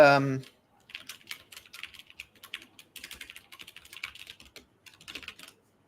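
Fingers type rapidly on a computer keyboard in quick, uneven bursts of close clicks, after a brief burst of talk at the start.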